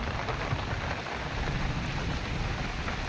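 Heavy rain pours down in a village, a dense and steady hiss of drops drumming on surfaces without a break, close and continuous, with no one speaking.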